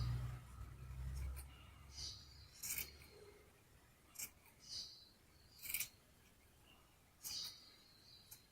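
Scissors snipping hair at the back of the head to remove volume and uneven the ends, a series of short crisp snips spaced about a second apart, close and quiet.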